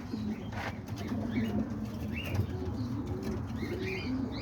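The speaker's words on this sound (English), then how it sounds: "And then there's a little black and white baby pigeon right there." Several pigeons, including young birds, coo softly and repeatedly in a loft, with low warbling calls layered over one another, plus occasional wing flutters and chirps in the background.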